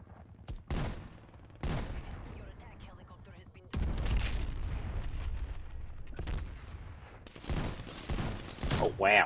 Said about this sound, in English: Deploying hand cannon.